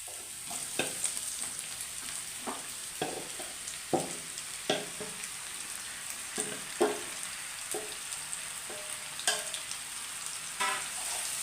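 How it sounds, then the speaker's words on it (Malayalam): Sliced brinjal (eggplant) fries in a hot pan for a Kerala mezhukkupuratti, with a steady sizzle throughout and regular sharp clicks and scrapes of a spoon stirring it. "ഈ വഴുതനങ്ങ നമുക്ക് ഇങ്ങോട്ടിടാം ഇതിനകത്തോട്ടിടാം"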